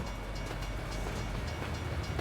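A train passing in the video game American Truck Simulator, a steady rolling rumble with rhythmic clickety-clack of wheels, continuous and moderately quiet, no talking.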